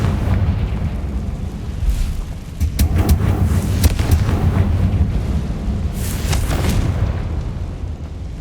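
A Confringo fire spell explodes in Hogwarts Legacy, played on Xbox: a heavy, rumbling blast followed by rolling booms and crackling bursts that stay loud throughout, with no voices.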